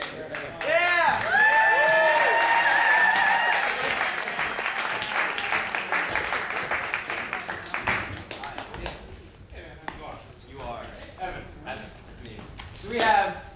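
Audience at an improv comedy show claps for volunteers, with a burst of cheering up front fading into scattered clapping, and a voice is briefly heard over it.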